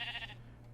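A single short sheep bleat in the Minecraft modpack Project Ozone 3 comes across faintly and fades quickly over a low steady hum.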